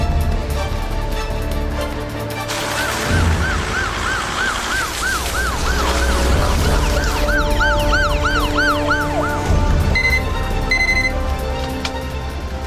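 A loud ambulance siren wails in repeated rising and falling sweeps, close by, over a steady rumble of traffic and engine noise.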